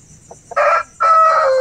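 A Shamo-cross rooster crows close and loud in two bursts, a short call followed by a longer drawn-out crow, with a quiet background.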